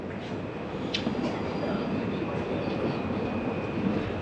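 Simhadri Express pulling out of Samarlakota station, a steady broad rumble of the train running continuously at close range, with a faint high whistle-like tone threading through.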